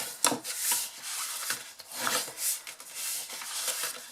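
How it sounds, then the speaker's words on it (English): Card being folded along score lines and burnished for a handmade candle box, giving close, repeated dry rubbing and scraping strokes in an uneven rhythm with no talking. "So it is just a case of fold and burnish all of those score lines."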